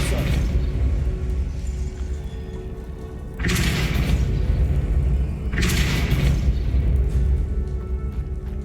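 Depulso force spell impacts in Hogwarts Legacy gameplay over a continuous rumbling bed, two sharp bright blasts landing a couple of seconds apart, each fading into a crackling tail.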